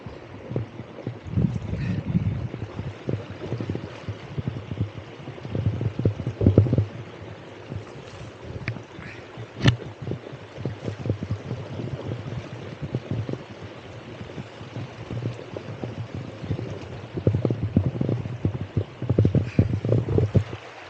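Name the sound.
floodwater flowing after Cyclone Fengal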